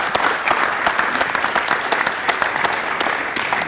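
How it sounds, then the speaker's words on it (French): Steady applause from an audience at a presentation of a new residence in Val-de-Reuil, dense overlapping claps sustained at an even level throughout with no voices. "oui, on peut l'applaudir."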